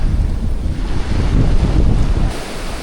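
Ocean surf rolls onto a beach in a steady, loud roar, the wash swelling in the middle and easing toward the end, with some wind buffeting the microphone.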